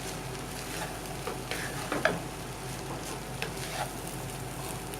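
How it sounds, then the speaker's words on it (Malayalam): Tomato rice, South Indian thakkali sadam, being stirred in a hot pan: soft continuous sizzling with light scraping and a few small clinks of the spoon, close and fairly quiet, with no talk. "ഒന്ന് ഇളക്കി കൊടുക്കാം."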